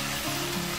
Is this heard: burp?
no